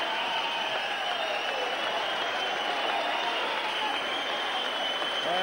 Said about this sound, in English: And both fighters to a standing ovation.